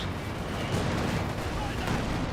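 Anti-tank gun fire from a ZiS gun in the World War II strategy game Company of Heroes 2, dense continuous battle noise with booming shots, heard under a commentator's voice.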